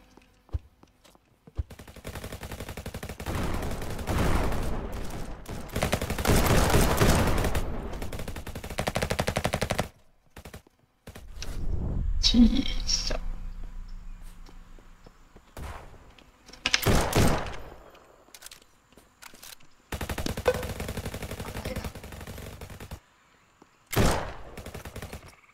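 Gunfire in the Roblox shooter RF Legacy, loud rapid-fire bursts close by, separated by short silent gaps, with a few scattered single shots toward the end.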